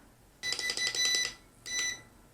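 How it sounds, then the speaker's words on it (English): Two electronic beeps from a Kai Deng K60 HD quadcopter drone during trim recalibration: a long tone of about a second, a short gap, then a shorter one, fairly clear over a quiet background. "Long beep means you're in the middle of the trim. Your trims are centered."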